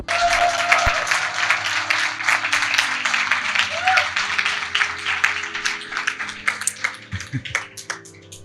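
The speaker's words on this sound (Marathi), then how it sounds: "अजून चांगल्या प्रकारे वाजू शकता टाळ्या." Sustained applause from a church congregation at a Marathi live service, dense steady clapping filling the whole stretch while a voice and low background tones carry on beneath it.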